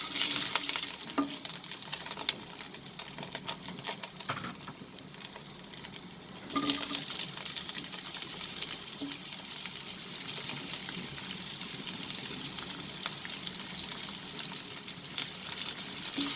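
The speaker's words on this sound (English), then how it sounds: "Then I am going to add the onions." Onions fry in a pan for a crispy chicken stir fry, giving a steady, dense sizzle that continues throughout. It grows slightly louder partway through, with faint stirring movements underneath.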